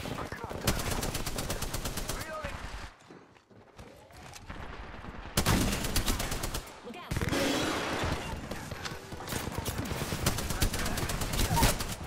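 Rapid gunfire in Apex Legends, with loud bursts of automatic shots and a short lull before the firing resumes with more intensity, alongside occasional game voices and talk.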